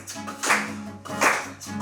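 Hand claps keep a beat, with two loud, close, sharp claps spaced evenly and a softer one starting at the end, over light background noise.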